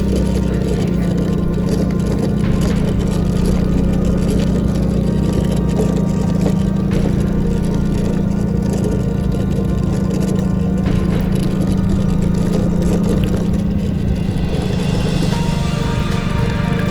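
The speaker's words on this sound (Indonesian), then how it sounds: "Nah, ini nanjak terus. Untung motor saya lagi sehat-sehatnya guys ya." A healthy motorbike engine strains steadily uphill on a forest road, a loud, constant droning rumble close by with no break and no voices.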